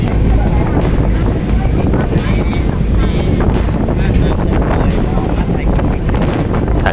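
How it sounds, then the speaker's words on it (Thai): Strong wind roars without pause across the upper deck of a river boat, a loud, close, steady buffeting rush that fills the whole stretch, with no voices heard. "พอขึ้นมาข้างบนแล้วก็ลมแรงมากๆเลยนะครับ ลมมันจะเข้ามาในไม้ด้วย ก็เลยแบบปล่อยให้มันเป็นธรรมชาติไปเลยนะครับ ก็มีเสียงลมด้วย"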